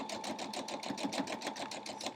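A sewing machine stitches fabric for a scrappy quilt block, running in a fast, even pulsing rhythm at close range with no talk.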